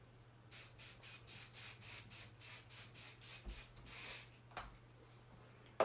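Rapid bursts of aerosol hair spray hiss in a steady rhythm, about a dozen short pumps, close and fairly quiet over a low hum.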